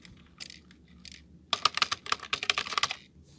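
Typing a folder name on a computer keyboard: a few sparse key taps at first, then a quick burst of rapid, crisp clicking keystrokes, close and fairly quiet, with no speech.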